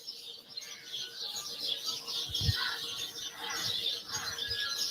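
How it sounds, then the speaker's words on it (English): Small birds chirp and twitter steadily in a dense, high chorus near a village resort in Tanzania, with a soft low thud partway through and no voices. "these other birds, what are these other birds?"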